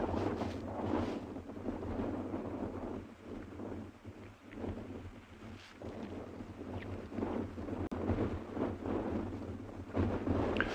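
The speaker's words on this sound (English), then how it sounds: "Sure, it is really breezy and really cold today." Cold, breezy wind gusting outdoors on a morning safari in South Africa, buffeting the microphone with a continuous low rumble that swells and eases, with no speech.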